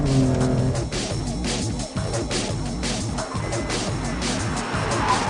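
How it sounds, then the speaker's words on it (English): A BMW M3 CSL screams around a race track at speed, the engine loud and continuous with rising and falling revs and tyre noise throughout. "Oh, listen to that engine."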